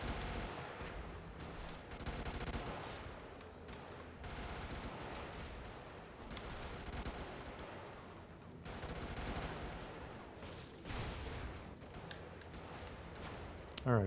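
Heavy cannon and weapon fire from the mech combat game Brigador, a dense, continuous barrage of booming shots and rattling bursts that stays loud for the whole stretch.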